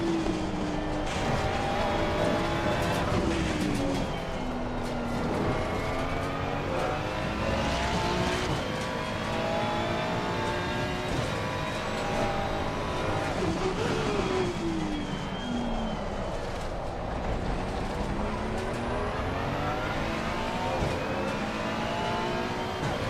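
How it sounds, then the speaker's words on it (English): A Bentley race car's engine screams steadily at high revs in a racing video game at Imola or Suzuka, with pitch sweeping up and down through gear changes, loud and continuous throughout with no talk. "That engine going, just screaming is always crazy."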